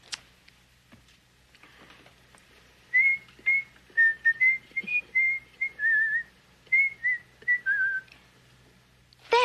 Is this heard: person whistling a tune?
yes